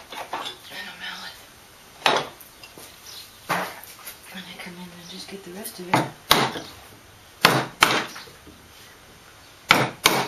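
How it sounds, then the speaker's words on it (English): Sharp wooden knocks strike at irregular intervals, a mallet driving a chisel into wood, close and loud, with someone speaking briefly between blows. "Then I just take a chisel"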